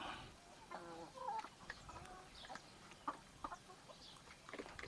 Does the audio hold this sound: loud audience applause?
no